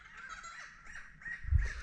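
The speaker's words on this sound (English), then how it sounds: "Come on, bird." Crow-like cawing near Moreton Island, Queensland: a few harsh, raspy caws in a row at moderate distance, with a brief low thump near the end.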